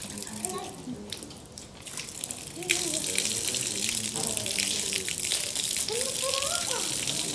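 Potable drinking water running from a public fountain in the Tangier Kasbah in Morocco, a steady splashing flow that gets louder partway through, with people talking over it.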